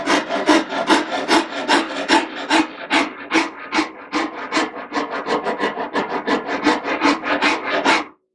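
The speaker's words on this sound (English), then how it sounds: "just make a whole pass and then just tilt the rasp just a little" A wood rasp shapes a wooden mandolin neck in a steady series of about thirty close, rhythmic strokes, each a crisp scraping rasp, heard clearly with no talk.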